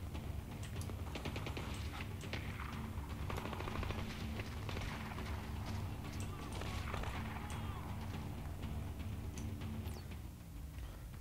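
Enemy gunfire in the stealth shooter Splinter Cell Blacklist, a dense, continuous crackle of rapid shots and bursts layered over a steady low game rumble, sustained at even loudness throughout.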